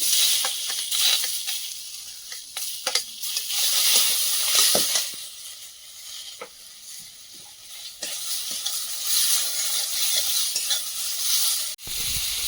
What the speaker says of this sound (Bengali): টমেটোটা ভেজে নেব